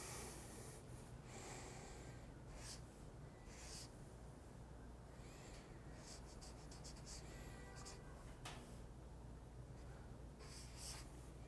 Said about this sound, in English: It's weird drawing from this side of the board.